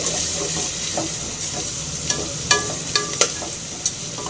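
Onions sizzle in a pan with coriander and curry leaves while a spoon stirs, a steady hiss broken by several sharp scraping clicks, close and loud with no voices.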